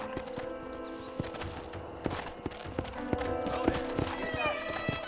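Horse hooves clip-clopping at a steady pace in the western video game Red Dead Redemption, the sharp hoofbeats set against a background of game ambience and music, with speech mixed in.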